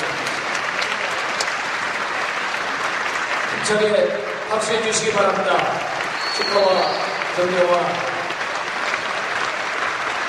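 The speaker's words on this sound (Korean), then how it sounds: "힘차게 박수해 주시기 바랍니다" Audience applause breaks out at a Korean church denomination's anniversary thanksgiving service and installation ceremony, a steady broad clapping throughout with someone speaking over it through a PA.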